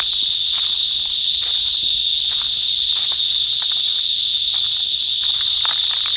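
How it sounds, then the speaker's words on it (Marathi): Tiny insects in the hills near a mountain spring and waterfall give off a loud, unbroken shrill chirring that never pauses, close by and alone, with a few faint rustles underneath. "हे लहानसे किडे म्हणजे एवढूसे लहान आहेत, पण ह्यांचा आवाज बघा तुम्ही."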